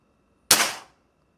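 A single sharp, close shot from a PCP air rifle charged to 2500 PSI: a sudden hissing crack that decays within half a second, followed by silence.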